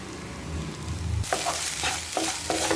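Gooseberries fry in a pan with asafoetida and curry leaves for amla rice, a quieter hiss that suddenly swells into loud crackling sizzle with repeated scraping stir strokes, no talking.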